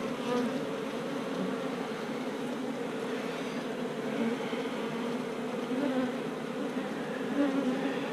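A honey bee colony hums from an open hive, a dense, steady drone of many wings, close and continuous without talk.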